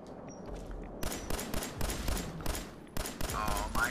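Gunfire in the video game Fallout 4 cracks out in rapid, loud bursts of several shots each, separated by brief pauses over a few seconds.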